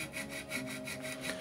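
Sandpaper rubbed in repeated back-and-forth strokes over a handmade wooden bird call that imitates the purple-footed tinamou (lambu pé roxo), close and steady with no talking.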